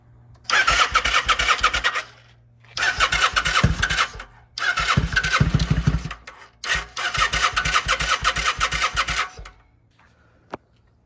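A 2001 Kawasaki NV750 motorcycle engine, primed with starting fluid, cranks loudly in four long bursts of several seconds each, with short pauses between them and a single sharp click at the very end.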